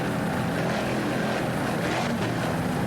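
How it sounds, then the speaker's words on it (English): A 38-foot Fountain race boat powered by twin 500 horsepower Mercury inboard engines roars at a steady, loud, unbroken drone, heard close with heavy broadband rush and no pauses. "Powered by two 500 horsepower Mercury inboards."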